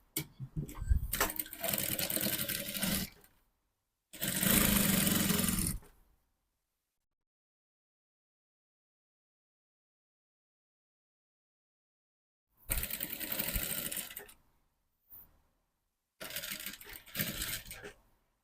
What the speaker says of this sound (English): I'll sew from this side now with 1/2 inch